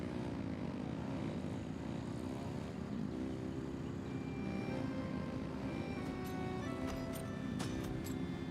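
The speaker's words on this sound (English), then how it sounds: "engines!" Engines drone in a loud, steady, continuous roar with no pauses, and a few faint clicks surface near the end.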